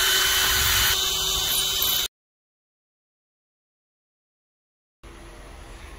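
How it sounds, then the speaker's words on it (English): A power drill whirs steadily for a couple of seconds while drilling into a board, cuts out abruptly into silence, then starts up again briefly. "I've set my drill bit far enough into the chuck"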